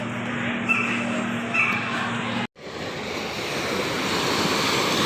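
Ocean waves crashing on a seashore make a continuous loud roar and hiss that swells after a brief cut midway, with a faint tonal whine and a short squeak early on.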